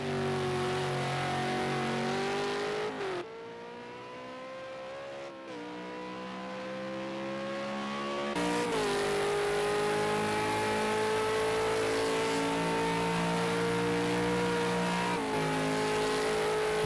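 A V8 Supercar race car at Bathurst in a sim racing session, its engine droning steadily and loudly with rising revs, short gearshift breaks and a dip in pitch partway through.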